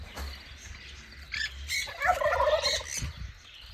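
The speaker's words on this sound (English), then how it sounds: "right near the turkeys. Yes, that's right, turkeys" Turkeys gobble near a campground with cabins at Bryce Canyon National Park, a few loud warbling calls rising and falling over a quiet outdoor background.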